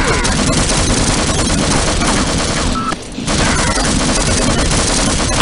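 Grenade blasts and rapid gunfire from the video game Half-Life, dense and loud almost the whole time, with a brief lull near the middle before the barrage resumes.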